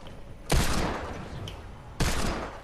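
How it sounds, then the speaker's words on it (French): Two loud gunshots from the video game Fortnite ring out about a second and a half apart, each with a sharp crack and a lingering echoing tail, with no talking over them. "pourquoi ils tirent sur leurs équipiers?"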